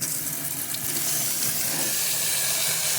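Bean soaking water is poured out into a sink, a steady close splashing and running water rush that continues for about three seconds with no talking.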